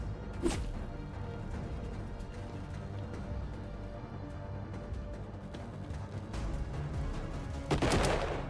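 Gunfire in a Colony Ship RPG combat encounter, with sharp bursts of shots near the start and again near the end over a dense, steady wash of game battle noise.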